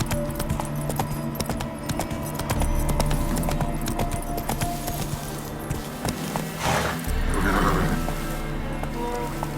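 Roach, a horse in The Witcher 3, gallops with rapid, rhythmic hoofbeats that run steadily throughout, mixed with game ambience and occasional louder swells.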